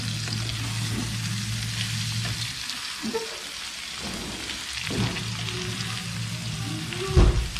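Egg and soy sauce stirred in a frying pan, giving a steady sizzle of frying broken by a few louder scrapes and knocks of stirring, with no talking.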